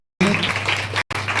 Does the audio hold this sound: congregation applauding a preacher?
yes